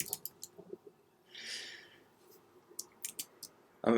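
A computer mouse clicks sharply several times on a Mac, in short bursts, close and quiet, with a soft rustle in between.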